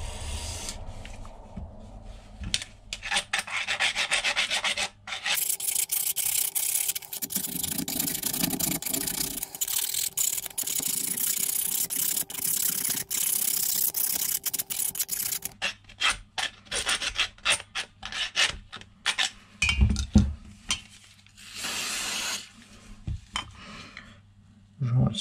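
Foil is rubbed against the pivot bolt of a Shimano 105 rear derailleur, a harsh scraping rasp with bursts of spray and intermittent scrubbing strokes, fairly close and continuous.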